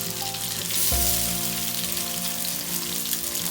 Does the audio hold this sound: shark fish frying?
yes